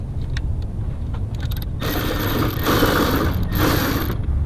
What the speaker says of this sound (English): What we're gonna utilize to get those two 12 millimeter nuts free, again, is the Milwaukee M12 ratchet.